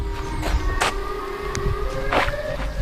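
A wailing siren said to come from the Siren Head creature drones outdoors at moderate distance, its sustained tones holding steady and shifting pitch while short bursts of rustling noise break in.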